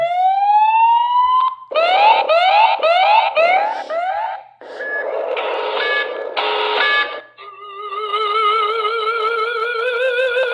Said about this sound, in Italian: Avete sentito che comunque sono delle allarmi parecchio fastidiose e lui è parecchio potente.